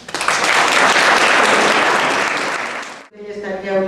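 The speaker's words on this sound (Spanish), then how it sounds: "Un aplauso para él," An audience at a tribute to a painter breaks into full, sustained applause that fades after about three seconds, and a voice begins speaking.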